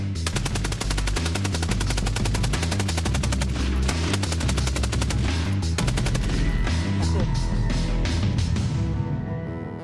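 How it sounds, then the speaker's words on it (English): A Maxim machine gun fires in a long, loud sustained burst of rapid shots, a continuous mechanical hammering that runs nearly the whole stretch with only brief breaks before tapering at the end. "now I'm going to fire the Maxim."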